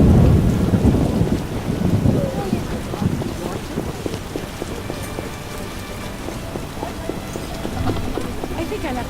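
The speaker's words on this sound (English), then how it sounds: "What a downpour." Heavy rain pours steadily in a Witcher game scene, with a deep rolling thunder rumble at the start and dense patter continuing throughout.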